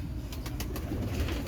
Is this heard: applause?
no